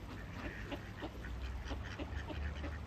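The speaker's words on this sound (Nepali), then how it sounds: "यहाँको क्या उडेर गइरहेछ हाँसहरू त" Ducks flying over water at Åmål, Sweden, give several faint, scattered quacks against a steady wash of wind and outdoor noise, with no voices.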